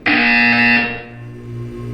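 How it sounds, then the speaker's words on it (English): A loud, harsh electronic buzzer from Portal 2 blares for about a second, then cuts to a lower fading hum. "You will hear a buzzer."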